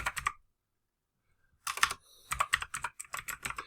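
Bursts of rapid computer keyboard clicking, a short flurry, a pause of silence, then a longer run of brisk typing, close and crisp.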